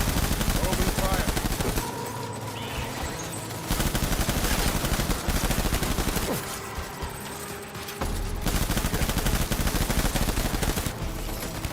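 Sustained rapid gunfire in the video game Death Stranding, dense loud automatic bursts broken by a couple of short lulls, filling the whole stretch.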